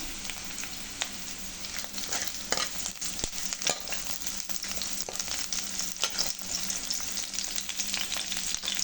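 Chopped onions, reddened in a pan, fry with added green chillies, giving a steady close sizzle and crackle with scattered stirring scrapes throughout, no voices.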